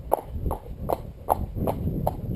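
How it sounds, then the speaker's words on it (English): A cob mare jogs Western-style during a training session, her hooves striking the ground in a steady, even clip-clop rhythm of about six beats, close and clear with no talk. "So she's doing now the Western horses jog, more or less."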